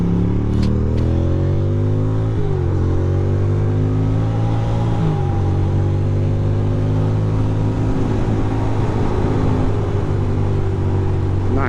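A Ducati motorcycle accelerating hard on the BQE, its engine loud and close, pitch climbing through several gear changes over steady road rumble.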